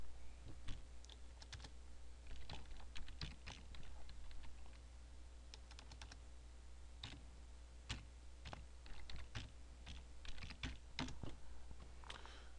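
Quiet, close keystrokes on a computer keyboard, typed in uneven bursts of clicks with short pauses, over a steady low electrical hum.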